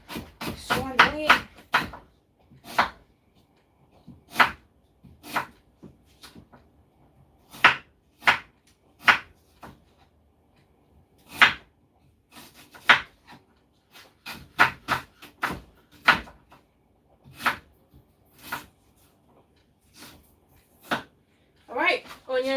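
Onions being chopped on a board at home, with sharp, irregular knife strikes spread through the stretch and occasional pauses between bursts of cutting.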